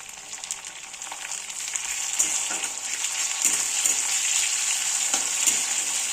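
Chopped onions frying in a pan, a continuous soft hiss of sizzling oil with occasional light clicks of stirring, close and moderately quiet, no voices.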